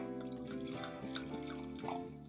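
Tringario Ludopata Marselan, a lightly fizzy fuchsia red wine, is poured from the bottle into a glass as a steady liquid stream with gurgles, set against sustained tonal background music.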